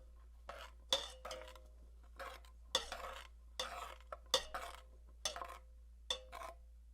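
A spoon stirring liquid into an alcohol-free herbal syrup mixture in a bowl, giving about eight close, separate scraping and clinking strokes with short quiet gaps between them.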